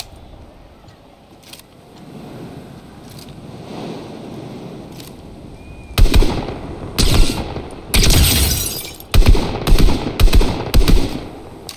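Fortnite gunfire, starting with a few faint distant pops over quiet ambience, then a burst of loud close shots in rapid uneven clusters.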